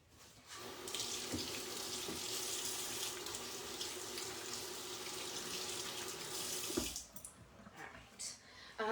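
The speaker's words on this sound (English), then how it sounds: "Wash your hands." Kitchen tap running steadily as hands are washed under it after handling raw meat packaging, a close, continuous splashing rush for about six seconds before the water shuts off and brief handling noises follow.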